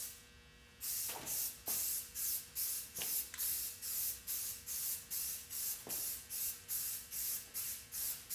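Repeated bursts of aerosol spray paint applied in a heavier coat to a motorcycle helmet, about fifteen short, even hisses in a steady rhythm, close and alone.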